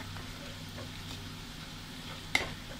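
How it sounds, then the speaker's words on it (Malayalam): Spice powders with turmeric sauté in a pan for a South Indian crab curry, a soft continuous low sizzle with gentle stirring and one brief metallic tap of a spoon near the end. "ഇനി പച്ചമണമൊക്കെ ഒന്ന് മാറുന്ന വരെ നമുക്കൊന്ന് വഴറ്റാം."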